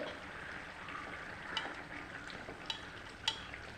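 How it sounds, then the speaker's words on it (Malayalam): Fish being stirred in a cooking pan, a steady low sizzle with a few sharp clinks of a utensil against the pan at irregular intervals, close and fairly quiet. "നമുക്കൊന്ന് ഇളക്കി കൊടുക്കാം"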